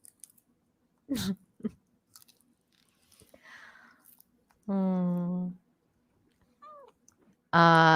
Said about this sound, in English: she just loves the crunchiness of lettuce